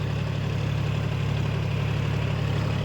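A work vehicle's engine running at a steady idle close by, a constant low rumble and hum with even vibration and no voices.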